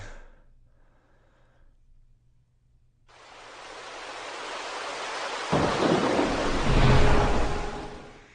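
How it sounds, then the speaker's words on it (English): Heavy rain in Mississippi, coming in after a short near-silent stretch as a dense, steady roar that thickens into a louder downpour partway through. The rain is loud and continuous, with no voices. "The rain falling so heavily and so quickly."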